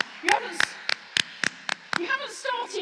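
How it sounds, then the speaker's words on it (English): A few scattered hand claps ring out in a church during choral matins, sharp and uneven rather than a full ovation, with voices murmuring around them. "Round of applause."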